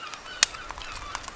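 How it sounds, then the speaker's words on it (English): Seagulls on the coast give a few short honking calls, one loud and close near the start and fainter ones later, over quiet outdoor ambience. "Seagulls are after it."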